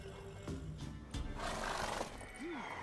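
A horse whinnies near the end amid The Witcher 3 game audio. Short game sounds and background music come before it, and the rising-then-falling neigh stands out clearly.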